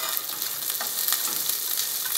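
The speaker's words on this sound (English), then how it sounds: "I'm going to saute it in the oil for a minute or so." Green beans sauté in hot oil for an aloo beans curry, a steady close sizzle with soft stirring scrapes, brief, with no talking.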